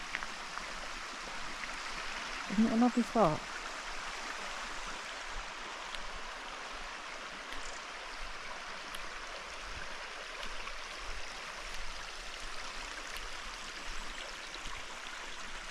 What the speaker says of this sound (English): We're by the Martell River.